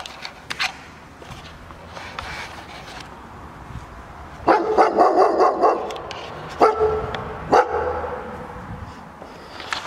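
A dog outside a house barks in a lively cluster of sharp woofs in the middle, with a few scattered barks later, over quiet outdoor background and light movement.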